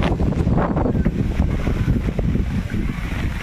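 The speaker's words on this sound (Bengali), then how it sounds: "হাওয়া এত জোরে হাওয়া দিতেছে।" Cyclone Remal winds roar past a market road, pounding the microphone with loud, continuous gusting rumble and rushing noise that never lets up.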